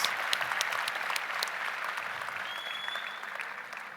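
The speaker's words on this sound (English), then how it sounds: "I think we should have gotten a louder round of applause for him" Audience applause in a hall, many hands clapping with some sharp individual claps standing out, loudest at the start and tapering slightly while a faint whistle rises over it.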